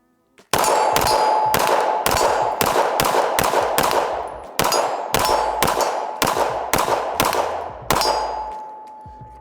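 A Glock 19 Gen 5 pistol fired at steel targets, a rapid string of about a dozen loud sharp shots, each followed by a ringing metallic clang from the steel, with a brief pause partway through.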